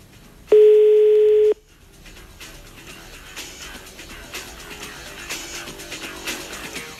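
A telephone ringback tone sounds once as a steady, loud one-second burst while a call is placed to a senator's phone, then gives way to quieter background music and noise.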